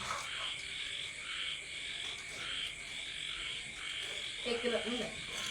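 Frogs croak and insects trill together at night, forming a dense, steady chorus that runs throughout, with a brief lower-pitched sound near the end.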